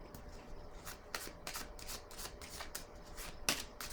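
Tarot cards are handled and laid onto a table in a quiet run of soft rubbing, sliding and light taps, close and faint, with one sharper snap near the end.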